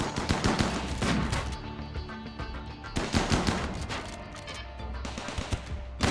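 Defensive turret gunfire in the video game Rimworld, with rapid automatic bursts crackling in two main volleys separated by a quieter gap, loud and dense with no talk over it.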